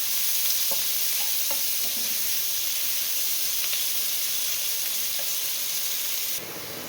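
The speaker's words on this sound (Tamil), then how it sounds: "இது நல்லா பொன் வறுவலாக வர்ற வரைக்கும் நம்ம இதை ஃப்ரை பண்ணலாம்." Chopped big onions fry in hot oil for a jackfruit biryani, a loud, steady close sizzle with occasional faint stirring taps before the sound drops away at the end.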